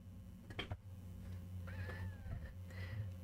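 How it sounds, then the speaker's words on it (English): Small rescued kittens meowing indoors: a couple of thin, faint mewing calls over a low steady hum, with no talking. "Meow meow kitties."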